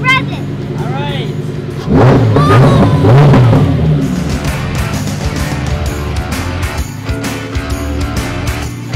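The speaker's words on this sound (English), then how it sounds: "Now rev it." A car engine revs over a steady idle, with a loud surge of rising and falling revs early on, then settling back to a rumbling idle while people talk nearby.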